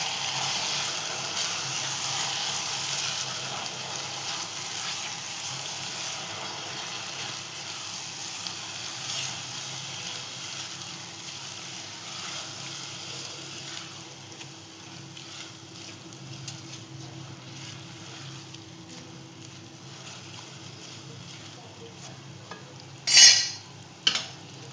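Coconut rice is stirred and mixed in a pan, producing a soft, continuous scraping and faint sizzle, with a couple of brief metallic clinks near the end.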